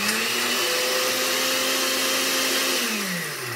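Blender running in a radio advert, a loud steady motor whine that holds level and then dips slightly in pitch near the end, with no talk.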